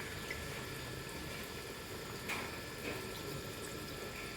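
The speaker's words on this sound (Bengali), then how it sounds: "এবারে আমি দিয়ে দেবো গোলা অ্যারারুটটাকে" Arrowroot slurry poured into a pot of boiling water while making chili paneer, a steady close wash of liquid running and splashing throughout with a couple of brief brighter splashes.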